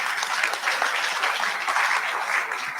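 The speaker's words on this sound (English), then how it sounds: "Let's give them another round of applause," Sustained applause from a conference audience after a panel presentation at a climate conference, a dense, steady wash of many hands clapping without pause, fairly loud and close.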